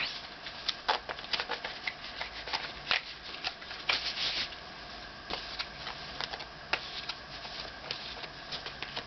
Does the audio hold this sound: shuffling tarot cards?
yes